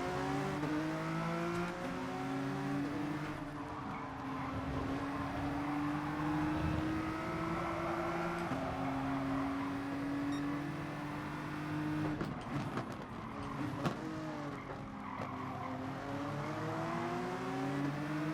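Honda NSX race car engines in the Gran Turismo Sport video game: sustained high-pitched engine drone with rising revs through the gears and clear shift drops, steady and close, with no talking.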